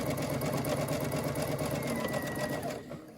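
A Baby Lock Chorus sewing machine runs a zigzag stitch with a twin needle, a fast steady mechanical whirring and ticking at close range that stops abruptly near the end.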